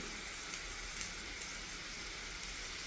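Cumin powder hits a hot pan on a gas flame, giving a steady, dense sizzle like light rain that runs unbroken throughout, close and fairly quiet, with no voices.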